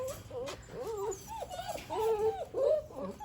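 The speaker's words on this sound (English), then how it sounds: "So here are the loud puppies." Several puppies whimper and yip in short, high, whiny bursts, overlapping in a close, fairly quiet indoor space.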